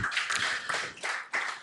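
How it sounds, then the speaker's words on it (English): Scattered audience clapping at a Nigerian power-sector conference as a speaker walks to the podium, with short uneven bursts of hand claps from a modest crowd, fairly faint and dropping briefly between waves. "please give him a round of applause as he walks to the podium"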